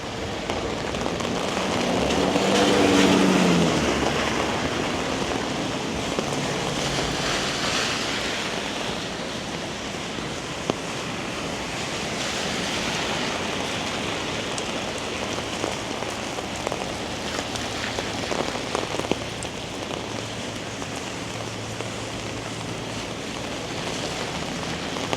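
Heavy rain pours onto a city street in an alley near Shuter Street and Moss Park, a dense, constant roar of water with splashing, heard close and steady for the whole stretch.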